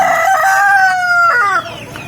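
A free-range village rooster lets out one loud, close crow, the long drawn note falling away at the end, with no talk over it.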